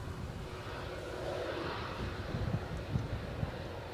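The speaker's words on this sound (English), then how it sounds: "Once we've had a look at this Airbus A320 British Airways" A British Airways Airbus A320 jet at Edinburgh Airport in gusty 40 mph winds gives a faint, distant engine rumble mixed with wind buffeting on the microphone.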